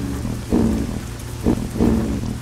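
Rain falls in a trucking video game while a T680 truck hauls a double trailer on an extreme Mexico map, a steady hiss with recurring low rumbling swells, heard without talk.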